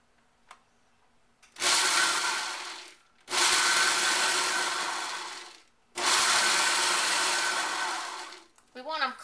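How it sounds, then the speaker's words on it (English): Pecans pulsed in a food processor: three loud whirring bursts of roughly one to two seconds each, separated by short pauses, with a faint clatter between pulses. "put your pecans in the food processor, and we just want to pulse these about 5 seconds"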